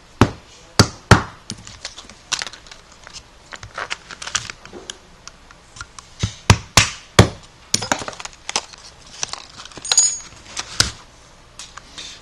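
Airsoft SR16 carbine being taken apart: a sequence of sharp metallic and plastic clicks, snaps and clacks at irregular intervals, close by, with quiet pauses in between.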